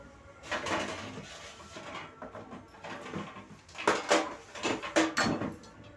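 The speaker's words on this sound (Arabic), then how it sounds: "نغسل بقى السيراميك بتاع الحوض" A ceramic kitchen sink is scrubbed and rinsed at close range in irregular, rough bursts, with an occasional clatter of dishes.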